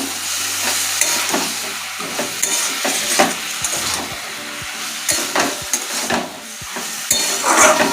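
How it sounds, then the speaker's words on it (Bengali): Rice with turmeric and salt stirred in a pan, a spoon scraping and knocking the metal repeatedly in uneven strokes over a continuous sizzle, close and loud. "ভালো করে নাড়াচাড়া দিয়ে নিই।"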